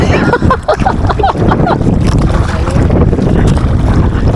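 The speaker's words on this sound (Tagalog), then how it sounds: "Mahina kasi yung andar ng makina ng aming bangka mga kauno, hindi masyadong marinig." A fishing boat's engine runs at sea, a low steady drone mixed with heavy wind buffeting the microphone and splashing water, with brief voices over it.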